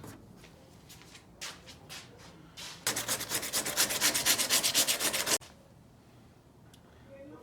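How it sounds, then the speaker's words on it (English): Hand sanding of a fiberglass body kit bumper lip, heard as faint scattered strokes at first, then a loud, steady run of rapid back-and-forth rubbing strokes up close that stops abruptly, leaving quiet. "All right, we got this sanded down."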